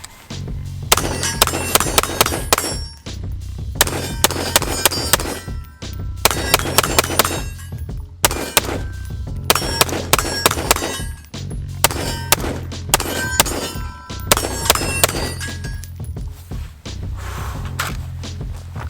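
Repeated bursts of gunfire from a custom Polymer 80 AFT pistol build with Aero and Ballistic Advantage parts, fired in quick strings of sharp, loud cracks with brief pauses between groups, close to the listener and with no talk.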